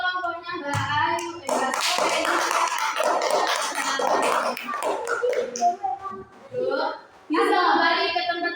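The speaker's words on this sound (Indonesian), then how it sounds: "Beri tepuk tangan buat kelompoknya Mbak Ayu" Students in a classroom applaud a fellow group after their poster presentation: a loud, dense round of hand clapping with children's voices chattering alongside and underneath, fading into scattered claps and talk.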